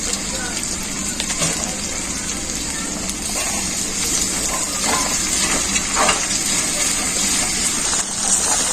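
Continuous sizzling and crackling of garlic paste, ginger paste and spice mix frying in oil in a pan, with occasional stirring scrapes and clinks.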